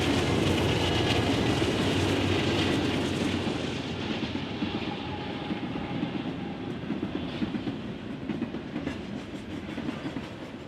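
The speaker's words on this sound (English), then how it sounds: "The action picks back up, starting with this westbound general freight." A BNSF westbound general freight train rolls past on a busy mainline, a loud, continuous rumble of wheels and cars with clickety-clack rhythm that eases slightly but stays steady throughout.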